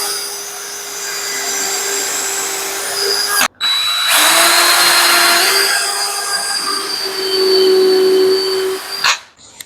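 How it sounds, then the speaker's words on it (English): A power drill pre-drills holes in a barn door from a JELD-WEN kit, with a sustained high motor whine broken by brief stops and a louder burst partway through. "Pre-drill the door."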